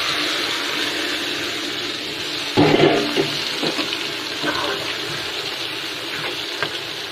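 Rohu fish roe frying in hot oil in a pan: a constant hissing sizzle that surges when the roe goes in, then settles into steady crackle, close with no voices.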